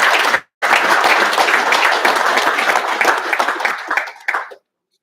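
Loud, close round of applause at a Pro Football Hall of Fame luncheon club meeting, a brief break at the start, then dense clapping that carries on for several seconds before fading and stopping.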